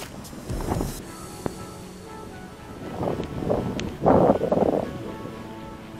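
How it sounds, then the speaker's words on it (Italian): Strong gusting wind buffets the microphone outdoors while a GoolRC CSJ S166 folding GPS drone flies, rumbling surges that swell and fade, loudest near the end. "si è fatto tanto vento adesso."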